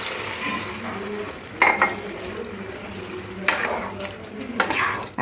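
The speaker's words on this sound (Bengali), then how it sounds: "জলটা দিয়ে দিলাম" Water poured into a pan of frying ridge gourd and potato curry: steady sizzling and stirring, with a few louder splashy hisses and scrapes as the liquid hits the hot pan.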